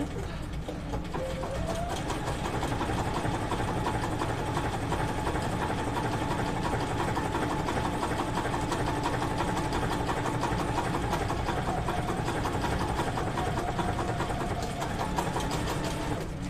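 A sewing machine hums and stitches a buttonhole in a steady, fast, continuous mechanical whir, close and unbroken, with no talking.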